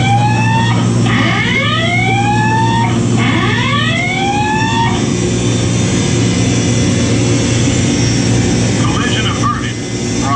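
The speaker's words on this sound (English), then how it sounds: "Collision alarm, quick!" A warship collision alarm aboard the destroyer USS Laffey sounds as a series of loud rising electronic whoops, three or four sweeps in the first half, over a steady low machinery hum, then stops while the hum carries on.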